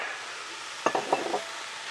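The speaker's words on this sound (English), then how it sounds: "Just starting to cook down, get the onions in there." Onions cooking in a pan over a campfire in snowy weather, a soft steady sizzle with a few close scraping stirs of a utensil against the pan in the middle.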